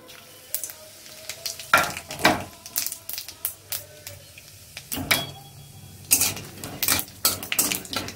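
Whole spices (bay leaf, a dried red chilli, cumin and fennel seeds) dropped into hot oil in a pan, sharp crackling bursts and pan clinks in irregular clusters, close and moderately loud, without speech.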